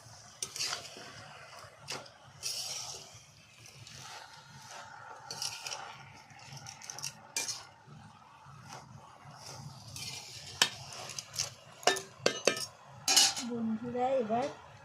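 A spoon stirs crab and spinach curry in a pot, scraping and clinking against the metal in irregular bursts over a soft background sizzle, fairly close and moderate in volume.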